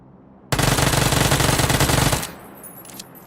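A sustained burst of rapid automatic gunfire, loud and close, erupts abruptly and roars steadily for under two seconds before cutting off into a quiet outdoor background.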